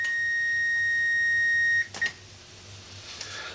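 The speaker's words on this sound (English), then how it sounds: "once this timer goes off, I'm going to strain it" A kitchen timer goes off while noodles cook, a single long steady high beep that cuts out abruptly, followed by a brief click and quiet kitchen background.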